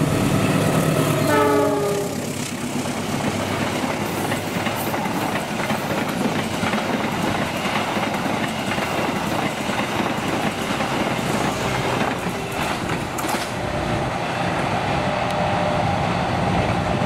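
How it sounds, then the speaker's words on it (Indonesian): A freight train rumbles past steadily, a horn sounding briefly at the start, with continuous rolling wheel noise and clatter throughout. "Berikutnya kereta api Limas Prio Cargo 2520"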